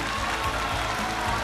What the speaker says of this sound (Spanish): el aplauso del público, que se hace más fuerte